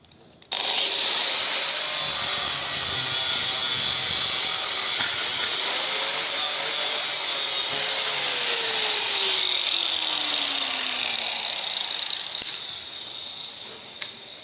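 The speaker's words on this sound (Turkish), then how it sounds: "Borularımızı kestik." Plastic pipe, roughly three metres long, is cut into equal lengths for a homemade cow-cooling setup with a steady abrasive cutting sound lasting about twelve seconds, its pitch sliding slowly downward before it tapers off.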